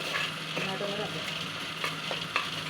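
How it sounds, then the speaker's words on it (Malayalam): Fish curry made with coconut oil, chilli and tamarind sizzles in a frying pan while being stirred, a soft steady frying hiss broken by a few scrapes of a spoon, close and quiet, without speech. "നന്നായിട്ടൊന്ന് കറക്കും."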